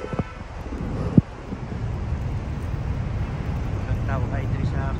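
Steady wind rumbles and buffets against the microphone while walking in Doha, with faint voices underneath and a brief knock near the start.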